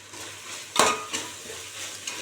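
Green chillies, mint and coriander sautéing in a pan for a pea rice dish, a steady close sizzle broken by a sharp scrape of stirring near the middle and lighter utensil knocks after.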